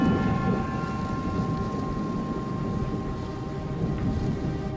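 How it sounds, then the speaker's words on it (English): Thunder rumbles low and continuously around an airport during a storm, blended with steady rain noise and no voices. "thunder begins to reverberate around the airport"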